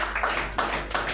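A church congregation claps loudly during a service, the applause swelling in three rhythmic surges with no voices over it.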